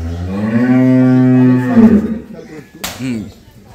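A Holstein Friesian dairy cow gives one long, loud moo, then a sharp smack and a shorter, softer low call close by.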